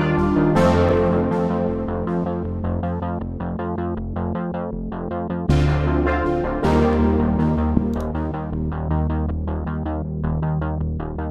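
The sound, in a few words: 80s-style synth beat with step-filtered synth bass and chords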